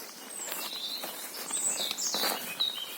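Small birds chirp and sing in a forest in June, several bright calls overlapping through the clip at moderate distance, with faint rustling in the background and no talk.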